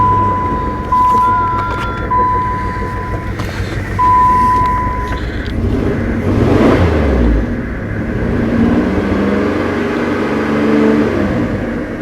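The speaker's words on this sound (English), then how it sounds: "Right after we got enough battery power to it, it started right up." A 1993 Plymouth Grand Voyager engine turns over and catches, then settles into a steady idle, loud and close, with a faint whine and some brief tones early on.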